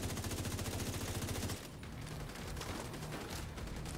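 Rapid automatic gunfire from a shooter video game rattles steadily for about a second and a half, then cuts off, leaving a busy, noisy game backdrop with scattered faint shots.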